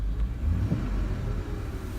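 An old truck with 236,000 miles idles after starting, its engine a steady low rumble close by that holds even throughout without any voices.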